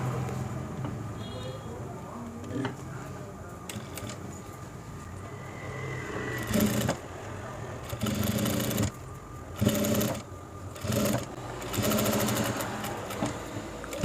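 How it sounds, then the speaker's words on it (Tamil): Sewing machine stitching a patchwork blouse, a quiet motor hum broken by several short loud bursts of fast rattling stitches near the end. "இப்போ நான் மேலே மட்டும் தையல் போடுறேன்."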